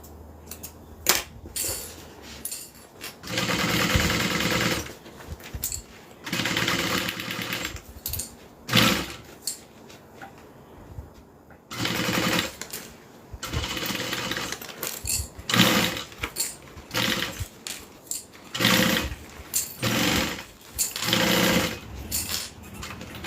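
Sewing machine stitching a Teresita train case, running in repeated loud bursts of a few seconds each with short pauses between them, close by and with no talking.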